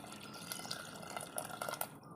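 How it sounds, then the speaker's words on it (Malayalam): Tamarind water is poured into a pot of onion sambar, a faint, soft trickle and drip of liquid running for a couple of seconds with no voices. "നമുക്ക് പുളിവെള്ളം ഒഴിച്ചു കൊടുക്കാം."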